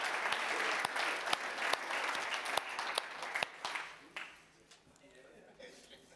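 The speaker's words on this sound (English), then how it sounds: "please join me in a round of applause" A conference room full of people applauds, a dense patter of clapping that holds steady, then thins out and fades as voices murmur underneath.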